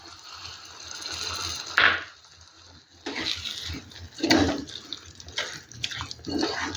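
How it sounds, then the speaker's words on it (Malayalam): Squeezed, strained tamarind water is poured into a pan for a Kerala prawn roast, giving close, splashing pours in several uneven bursts with brief pauses between. "അപ്പോൾ ഇതിനോടൊപ്പം നമുക്ക് ഇനി പിഴിഞ്ഞു വെച്ചിരുന്ന വാളംപുളി വെള്ളമാണ് കൊടുക്കുന്നത്"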